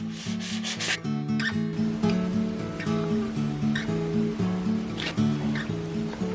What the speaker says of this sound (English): I'm going to grease it with the leftover butter wrapper.